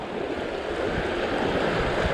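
River water rushes over stones at a crossing in Uttarakhand, a steady close hiss and gurgle of flowing water, fairly loud and uninterrupted.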